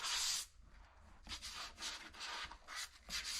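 Rhythmic abrasive rubbing strokes of detail sanding drywall plaster, close up, repeating in short bursts with no talking.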